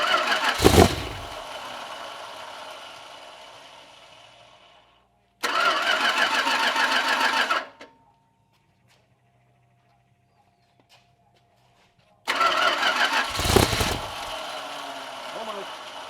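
A Chrysler 318 stroker engine cranks in short bursts, going silent between tries, then catches and fires with a loud roar that settles into a rough idle.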